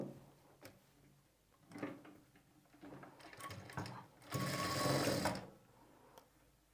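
Sewing machine stitching a blouse shoulder seam with a half-inch margin at the neck: faint, close bursts of clicking and handling, then a short steady run of stitching, with no speech.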